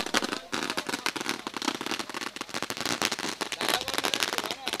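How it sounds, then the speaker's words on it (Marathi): Dense, continuous crackle of firecrackers bursting in rapid irregular volleys during a fireworks display at a night village cricket final, loud and close, with crowd voices and chanting mixed beneath the popping. "कडक फटाक्यांची आतषबाजी"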